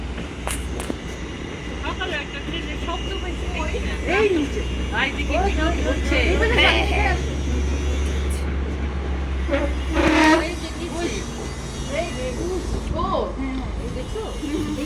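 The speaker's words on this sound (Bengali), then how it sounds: "হ্যাঁ, আমাদের ট্রেন ওইটাই" A train passes near a bridge, a broad steady rumble with rolling low-end noise running throughout, overlaid by scattered voices and outdoor chatter.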